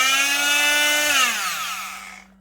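A Makita oscillating multi-tool runs at full power, a loud, close, steady buzzing whine that lowers in pitch and fades as it winds down.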